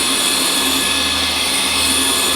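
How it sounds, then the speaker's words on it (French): An electric hand mixer whisks egg yolks and sugar, a loud steady whir with a constant motor tone and no breaks throughout. "Derrière vous avez le bruit du batteur"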